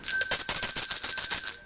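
A small bell rung rapidly and repeatedly for nearly two seconds, a bright metallic ringing close by with no voices over it.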